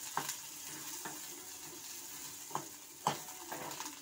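Onions and coriander leaves sizzle steadily in a hot pan, with occasional soft scrapes and taps of a spatula stirring, fairly quiet and close.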